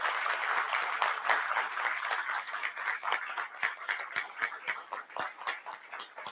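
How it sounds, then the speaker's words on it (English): Audience applause for summit organizers at a water safety summit's closing plenary, a faint, dense patter of many hands that thins toward the end into scattered individual claps. "I just want to give them a round of applause."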